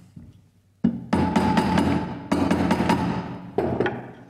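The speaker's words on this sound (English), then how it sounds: "For the crankshaft, use nothing more than very light taps with a rubber mallet" Light rubber-mallet taps seat a Vespa crankshaft during a scooter engine build, a handful of dull, close knocks in short irregular bursts over a quiet workshop.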